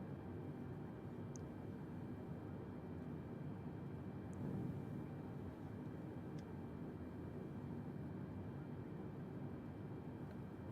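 A Concorde in a flight simulator game takes off from runway 27, its engines a steady, broad roar that holds at an even level throughout, with a few faint clicks on top.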